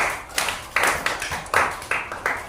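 A group of pupils at SDN Manyaran 1 primary school in Indonesia claps in unison, several sharp bursts in a roughly regular rhythm, each followed by a brief decay, close and fairly loud.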